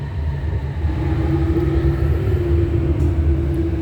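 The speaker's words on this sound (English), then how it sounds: "the train is arriving on the other side" A Shenzhen Metro Line 8 train runs at the platform, giving a steady low rumble with a sustained mechanical hum, loud and continuous, close by with no voices over it.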